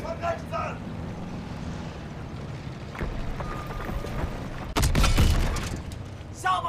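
In the World War II game Call of Duty, a tank cannon fires and explodes in one loud, heavy blast near the end, rising over a steady bed of rumbling battle noise, with game voices shouting earlier.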